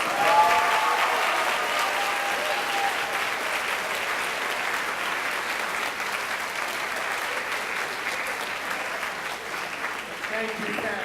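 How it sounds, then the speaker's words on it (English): Audience at a spring school orchestra concert applauding parents, a sustained, dense wash of clapping from a large crowd, steady and loud throughout. "give them a huge applause for all this support"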